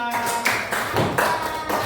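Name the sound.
class clapping for a student group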